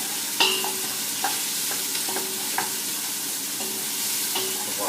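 Onion frying in a pan gives a steady close sizzle, while a utensil stirs and taps against the pan several times.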